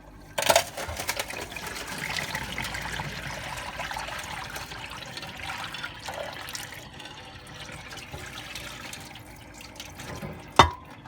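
A Miele W864 washing machine drains hot water after a 95-degree cotton wash, giving a steady close rush and trickle of water with a sharp knock near the end; no one speaks.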